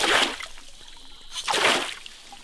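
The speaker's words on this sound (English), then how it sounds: "is the main flow of the creek because it's coming out of the pump" Creek water gushing out of the outlet of a natural-energy water pump, heard close up as two loud hissing, splashing surges with a quieter trickle in between.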